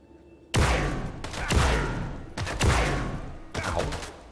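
A hostile turret in the System Shock Remake video game fires in bursts, four sharp loud volleys of gunfire spaced about a second apart, each with a short ringing decay.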